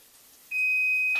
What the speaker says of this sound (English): my timer to tell me it's time to turn this